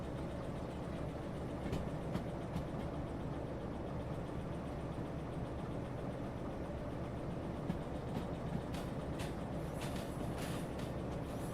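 Freight train in the railway simulator game Derail Valley, a low steady rumble of the locomotive and wagons rolling along with faint intermittent clanks and squeals, quiet and continuous.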